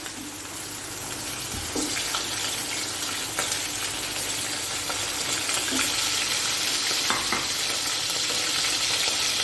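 Chicken pieces dropped into a pan of lightly cooked onions, frying with a steady close sizzle and occasional stirring scrapes, no voices.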